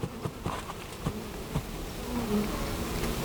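Honey bees around a hive frame loaded with brood, eggs and larvae make a close, steady buzzing hum with individual bees droning past, mixed with soft handling taps and knocks.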